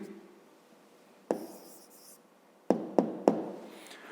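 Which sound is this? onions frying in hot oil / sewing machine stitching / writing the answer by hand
writing the answer by hand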